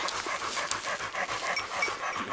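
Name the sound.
tired hunting dogs panting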